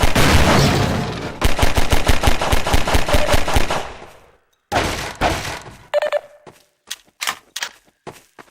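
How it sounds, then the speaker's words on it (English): Bursts of distant gunfire crackle in rapid volleys in the video game Half-Life 2, punctuated by heavy booming blasts, with sharp isolated shots echoing afterward. "distant combat might be small arms fire, distant explosions, a passing helicopter"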